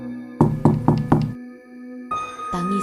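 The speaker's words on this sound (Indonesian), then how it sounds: "Kali ini disertai suara ketukan pelan." Four evenly spaced knocks on a door or wooden surface at night, fairly close and firm, followed by a short silence and a low sustained tone.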